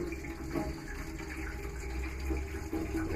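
Cold water runs from a tap aboard a sailboat being winterized, a steady, even rushing stream lasting the whole moment, fairly close and with no talking.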